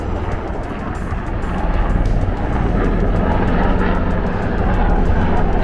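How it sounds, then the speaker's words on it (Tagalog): A helicopter passes over a busy street in Shibuya, Tokyo, its steady low rotor-and-engine drone loud and sustained, rising slightly as it nears, with city crowd noise underneath. "Oh, there's a helicopter."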